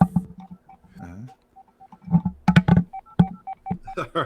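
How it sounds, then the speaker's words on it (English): A telephone keypad is dialed, producing a quick, irregular series of clear touch-tone beeps, loud and close, with short gaps between groups of tones and no voices. "Here, let me dial."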